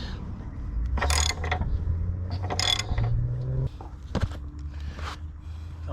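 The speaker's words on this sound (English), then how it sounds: "Now we'll put our socket back on. Got our big ratchet here." A big ratchet turns a socket on an engine bolt while a blown 2.5-litre motor is swapped in a 2008 Nissan X-Trail T31, giving bursts of close mechanical clicking with clanks and shuffling in between.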